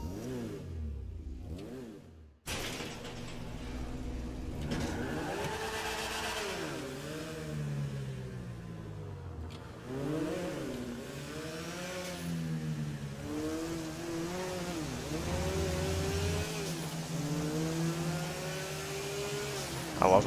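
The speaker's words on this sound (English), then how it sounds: "I love how GTA or Rockstar makes it so such an old car can have a huge turbo sound to it." A turbocharged Grotti Stinger GT in GTA Online revs repeatedly after an abrupt start, its engine note climbing and falling in a series of swooping pulls, loud and close throughout.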